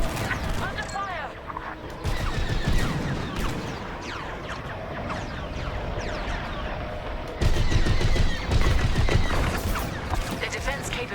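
Busy Star Wars Squadrons space-combat gunfire, rapid blaster-like bursts layered with whooshing engine sweeps and alarms, steady and loud throughout with a louder surge near the end.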